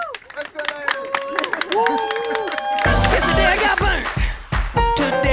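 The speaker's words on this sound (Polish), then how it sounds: "Wielkie brawa dla nich!" Wedding guests at the Gościniec Pod Różą reception clap in scattered bursts over music and crowd voices, the clapping building into a louder, fuller round midway before breaking into sharp separate claps.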